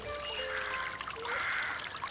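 Water pours and trickles steadily into a container to mix with tea for a liquid plant fertiliser, a continuous close splashing stream with no voices.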